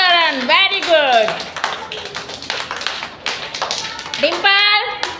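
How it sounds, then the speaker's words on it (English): Children clapping in a kindergarten classroom during a phonics lesson, a scatter of small taps and claps between bursts of high-pitched teacher speech, fairly close and light. "Clap for. Clap."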